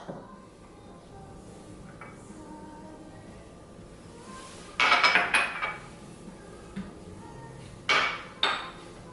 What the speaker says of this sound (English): So what you do, you put these ingredients into the pot.